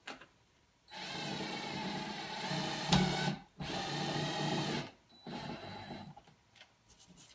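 A screw is driven through a piece of wood into a wall during wall repair. Two long, steady whirring bursts of a power driver are separated by a short pause, then a shorter burst follows, loud and close with no talk.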